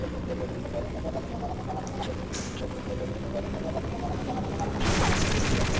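A gunshot in the video game Half-Life lands as a single loud burst near the end, over a steady hum of in-game background noise.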